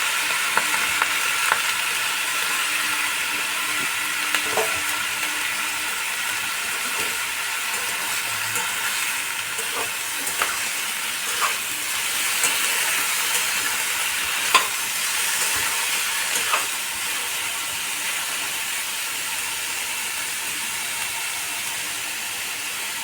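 Pumpkin pieces fry in oil in a pan over lowered heat, giving a continuous close sizzle with occasional sharper pops and light stirring scrapes, steady for the whole stretch, no voices.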